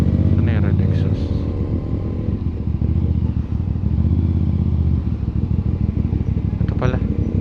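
A CF Moto 450 SR-S motorcycle fitted with a red exhaust muffler idles nearby with a loud steady rumble and a few throttle changes, while people talk over it.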